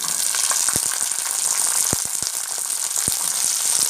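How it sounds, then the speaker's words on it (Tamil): Sundakai (turkey berries) frying with sambar onions in a pan, a steady close sizzle with occasional sharp pops and crackles, no talking. "இப்போ நம்ம சாம்பார் வெங்காயத்து கூட சுண்டைக்காய் போட்டுக்கலாம்."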